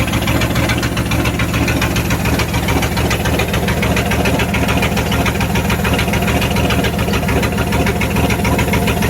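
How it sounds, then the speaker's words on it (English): A Dodge Ram truck's 318 V8 engine idles with its exhaust wide open, a loud, close, steady rumble with a rough, knocking pulse that runs unbroken for nine seconds, no voices. "it's hard to tell how it really runs because the exhaust is wide open. But that's a running truck"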